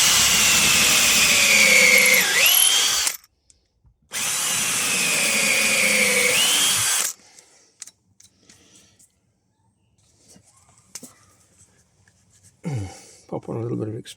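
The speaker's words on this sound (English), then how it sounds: "And then pre-drill these." A power drill whines in two long, steady bursts pre-drilling wood for bed steps, then stops, leaving brief quiet handling noises and a short final clatter.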